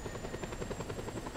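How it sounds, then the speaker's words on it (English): A helicopter in the Just Cause 2 video game whirs at a steady, fast rotor pulse, a dense continuous drone with no talk over it. "Oh god, helicopter is crashing."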